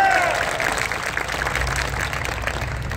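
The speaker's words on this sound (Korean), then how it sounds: "두 분 제장 동지께 다시 한번 힘찬 승리의 박수" Crowd applause at an outdoor union rally for subcontract workers, a steady wash of clapping that swells at the start and then continues evenly, with faint voices underneath.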